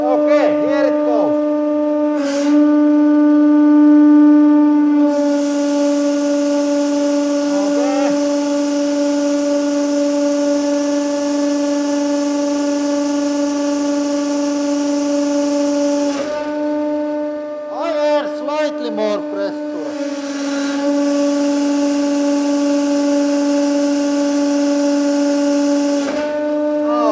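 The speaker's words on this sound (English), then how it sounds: "I think we are going to just try to cut wood with ballistic gel" A hydraulic press drives ballistic gel through a 1 mm nozzle at about 700 bar. Its pump makes a loud, steady tonal drone with a harsh buzzing hiss that drops away and resumes several times.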